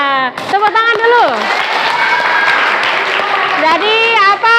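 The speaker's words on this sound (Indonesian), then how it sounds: "Nah, tepuk tangan dulu" A classroom of students claps together after an ice-breaking exercise in a mathematics lesson, the dense clapping nearly covered by loud, overlapping children's voices shouting and cheering.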